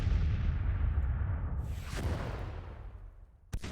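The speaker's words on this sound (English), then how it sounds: "happy for my artillery to go to work now" Cannon fire from Civil War artillery batteries in the Grand Tactician: The Civil War strategy game, a dense, deep rolling rumble that slowly fades, then one sharp crack near the end.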